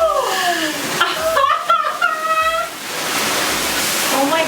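A newly installed shower head sprays water hard on its high-pressure setting, a steady rushing hiss that swells and continues under a person talking excitedly.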